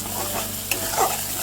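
Spice masala frying in oil for chicken curry, with dense close sizzling and a spoon stirring through it, one quick scrape and a soft clink, and no one speaking.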